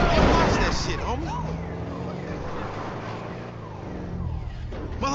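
A big 140-cubic-inch motorcycle in GTA 5, its engine roaring steadily and shifting in pitch as it speeds along, loud and close, with voices talking over the engine.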